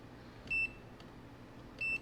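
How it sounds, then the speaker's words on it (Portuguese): Two short, high multimeter continuity-test beeps about a second apart over faint background hiss, probing a Moto G5S Plus circuit board. "com o nosso multímetro na escala de BIP, na escala sonora"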